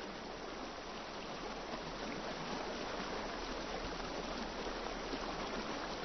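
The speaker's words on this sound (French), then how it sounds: "La source se change soudain en une rivière torrentielle qui atteint le bambou" A torrential river, a spring suddenly swollen into floodwater rushing toward bamboo, gives a steady, dense broadband rush that stays even and unbroken throughout, with no voices.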